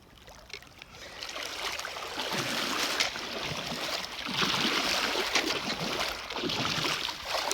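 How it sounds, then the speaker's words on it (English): Steady rushing and gurgling of cool creek water on the John Muir Trail near Evolution Creek as someone wades knee deep, continuous close splashing flow. "I'm almost knee deep in water"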